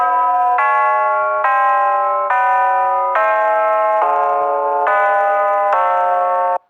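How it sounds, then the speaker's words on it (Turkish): A scary doorbell sound effect plays from a phone app: a loud, sustained electronic chime that steps through about eight ringing tones in a steady sequence, heard alone with no talk. "Daha doğrusu korkunç kapı zil sesi."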